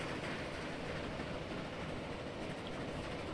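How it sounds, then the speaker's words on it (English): A train rolls along a new line in the Transport Fever 2 video game, giving a steady, continuous rumble with a low, even roar that stays constant throughout. "Well, the new train is underway."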